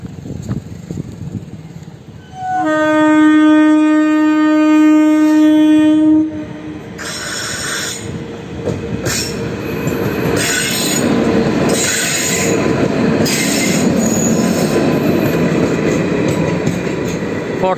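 A WAP5 electric locomotive in Fortune advertising livery, hauling a Porbandar–Shalimar parcel train, arrives at a Kolkata station. Loud sustained wheel squeal with strong steady tones rings out, then gives way to rumbling, clattering rolling noise from close by.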